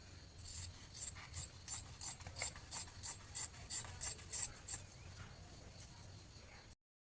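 Scissors cut fabric for a sewn top with a curved neckline, giving about a dozen rhythmic, close snips in a steady run that then stop.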